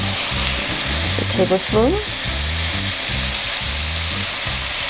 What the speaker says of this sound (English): First of all, I'm going to add a tablespoon of soy sauce.